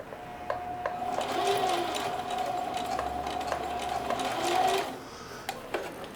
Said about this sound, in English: I'm going to continue zigzag stitching right down this line of straight stitch here